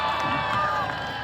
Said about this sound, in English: What cheer for Team Sauvage!